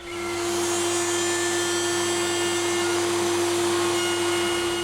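A router fitted with a larger bit runs on a Stratocaster guitar body, a steady, loud electric motor whine with a constant tonal hum that swells up at the start and holds evenly throughout.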